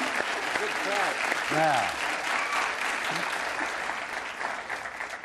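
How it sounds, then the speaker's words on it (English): Studio audience at a game show taping applauds steadily for the full stretch, loud and close, while a host and others talk briefly over it. "Give him a round of applause."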